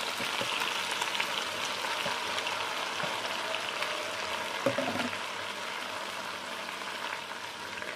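Mustard greens stir-fried with wilted chili and shallots sizzle steadily in a pan, a constant hiss with a few soft clinks of stirring, no voices.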